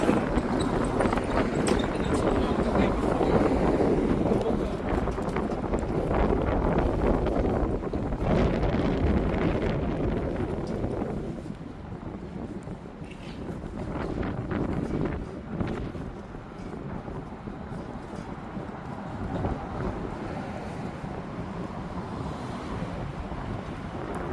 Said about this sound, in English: As the wind starting to get a little bit more stronger.